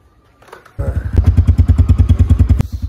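Motorcycle engine starting after a quiet moment, then a loud, close, rapid thumping idle with regular pulses; a voice is briefly heard near the start.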